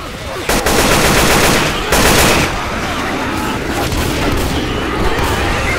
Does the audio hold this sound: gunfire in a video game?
yes